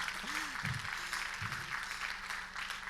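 A conference audience at a philanthropy summit gives soft, steady applause that runs throughout, with brief vocal sounds rising above it.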